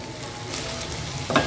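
Squash, slightly burnt, fries in a pan with a steady close sizzle and a brief stir or clatter near the end.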